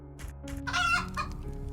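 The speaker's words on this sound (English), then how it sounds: "And we got another chicken." A chicken in a dungeon crawler video game gives a short burst of clucks over a soft, steady game background tone, clear and close, with no speech.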